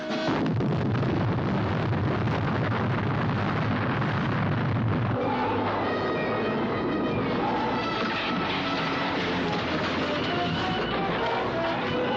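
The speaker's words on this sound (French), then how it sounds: "l'explosion n'a pas causé de dommages" A device exploding in the air, a heavy rumbling blast that dies away into a long roaring, crackling tail and sustained low turbulence, with no voices heard.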